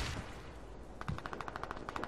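Rapid automatic gunfire in the Warface video game during a clan war match: a fast, even burst of shots starts about halfway in, following a brief louder opening blast, with no talking.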